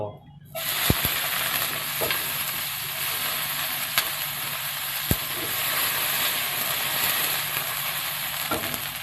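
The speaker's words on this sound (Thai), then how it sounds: "ผัดถั่วงอกกับน้ำมันนะครับ ใส่น้ำมันไปนิดหน่อยประมาณ ครึ่งช้อนโต๊ะนะครับ แล้วก็เปิดไฟให้แรง แล้วก็ลง ถั่วงอกของเรา" Bean sprouts hit hot oil in a pan on high heat and set off a loud, steady sizzle that carries on throughout, marked by a few sharp clanks of the pan or utensil.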